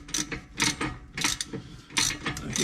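A ratchet snugs up U-bolts on the brackets of an RC Jeep Gladiator, clicking in five quick bursts of rapid metallic pawl clicks, close and fairly quiet.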